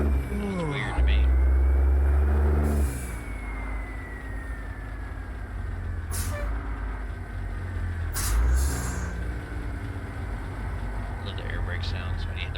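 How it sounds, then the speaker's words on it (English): Truck air brakes hissing in American Truck Simulator on a Jon Ruda 389 Glider, with sharp bursts of released air over a steady low engine drone and some talk. "Love the air brake sounds when you hit the brakes."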